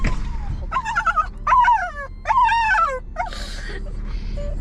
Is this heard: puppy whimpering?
yes